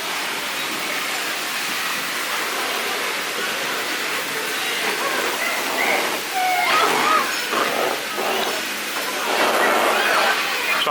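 Water sprays and splashes steadily in a chlorine-scented science centre water zone, a continuous hissing rush with brief splashy bursts near the microphone; faint voices mix in.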